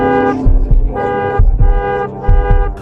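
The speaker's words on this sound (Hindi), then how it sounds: "वो हॉर्न बजाता ही गया" A car horn honks repeatedly in short and longer blasts, loud and close, over a continuous droning background.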